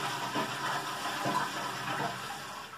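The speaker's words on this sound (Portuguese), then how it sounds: "Aqui eu tenho a privada, olha o som que ela faz quando eu aperto." A home toilet flushes when its button is pressed, giving a steady rushing of water with a few surging gushes, close and continuous, with no talking.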